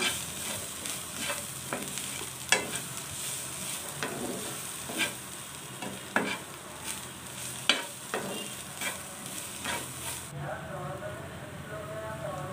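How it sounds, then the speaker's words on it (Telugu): Bitter gourd fry with coriander powder sizzles quietly in a pan as a spoon stirs and knocks against it in repeated scraping strokes, with faint speech near the end. "వేసుకొని దీన్ని కూడా బాగా మిక్స్ చేసుకోవాలి"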